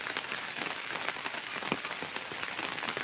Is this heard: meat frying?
no